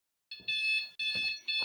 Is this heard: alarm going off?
yes